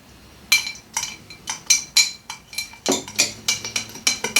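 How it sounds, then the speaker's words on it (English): A bar spoon clinks rhythmically against a cocktail glass while stirring sugar, producing bright, close metallic taps at a quickening steady pace. "stir the sugar until it's dissolved"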